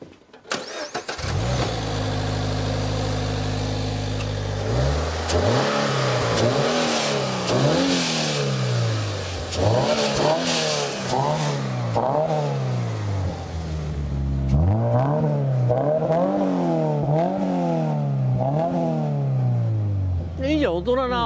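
A Toyota Sports 800 engine starts nearby with a near-stock, road-legal exhaust and a modified throttle, then revs again and again, its pitch climbing and falling in repeated sweeps, loud and close.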